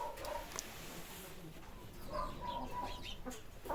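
Chickens cluck and chatter up close while pecking at grapes in a farmyard, steady overlapping clucks with a few sharper calls, and a voice talks softly to them over the birds.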